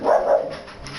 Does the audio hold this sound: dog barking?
yes